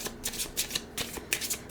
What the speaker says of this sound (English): let's pull a couple of these oracle cards